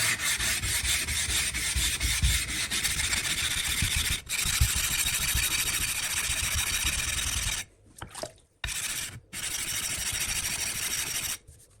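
Knife sharpening stone being flattened by rubbing, a continuous gritty rasping scrape in steady strokes, close and loud, broken by a few short pauses near the end.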